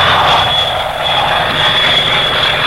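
Aircraft flying past during a 1961 air show flight display, a steady loud engine roar with a sustained high whine, continuous and fairly close throughout.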